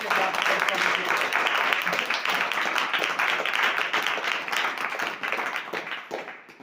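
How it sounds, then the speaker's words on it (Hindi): Congregation clapping during a Hindi-language Christian sermon, a dense, steady wash of claps lasting several seconds before fading out. "परमेश्वर की बातों के लिए आप तालियां बजा सकते हैं।"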